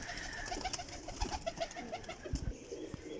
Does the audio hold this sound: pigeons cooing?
yes